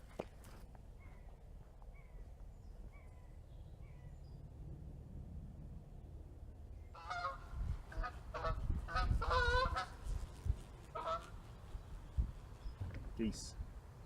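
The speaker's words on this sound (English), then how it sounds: "Geese." Geese in the English countryside honk in a loose, overlapping flurry, fairly close, starting after a quiet stretch with faint distant calls and continuing in bursts.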